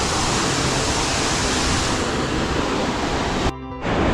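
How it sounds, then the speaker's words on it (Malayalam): Rushing water and spray at the base of Rainbow Falls in Meghalaya, a loud, steady broadband roar close to the listener that cuts out briefly near the end, with no talking. "വെള്ളച്ചാട്ടത്തിൽ മറ്റേ സ്പ്രേ അടിക്കുന്ന പോലെ വെള്ളം ഇങ്ങനെ മേത്തേക്ക് തെറിച്ച് വരുന്നുണ്ട്"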